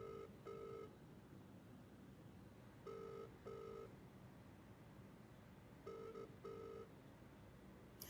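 A phone ringback tone sounds during a call, double electronic rings repeating about every three seconds over a low background hiss, faint and steady.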